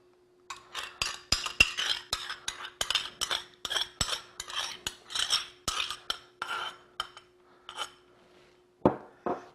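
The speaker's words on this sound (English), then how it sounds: "Now we're gonna mix the sauce. We're gonna put ketchup." A utensil stirring ketchup into meatloaf sauce in a bowl, making a long run of quick, rhythmic clinks and scrapes against the bowl that are close and crisp, then a short pause and a couple of final strokes.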